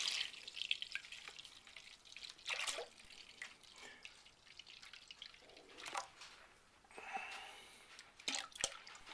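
Skim milk, about half a gallon, poured into a pot for homemade Greek yogurt, giving a soft splashing, trickling flow in uneven bursts, fairly quiet and close, with no voices.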